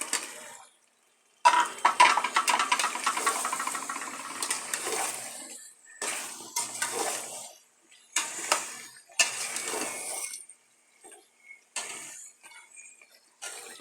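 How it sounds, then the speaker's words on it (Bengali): Potato pieces tipped into a pan of browned chicken bhuna and stirred, giving bursts of clattering, scraping and sizzling broken by short pauses, close and moderately loud with no talking. "আলুটা দিয়ে দিতেছি।"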